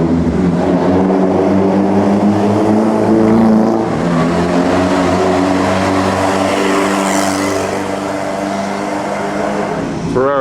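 A vintage Seata car at the Mille Miglia road race, its engine droning loud and close with steady harmonic revving throughout, a brief rise in pitch near the end.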